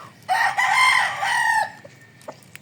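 Young gamecock stags crow in a single loud, close call lasting over a second, with a trailing drawn-out note and faint clucks afterward.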